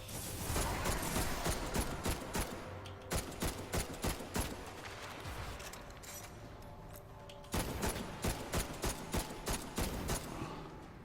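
Exploding-bullet gunfire in Destiny during a solo Nightfall run: loud, rapid bursts of evenly spaced shots crack out in two long volleys separated by a brief lull.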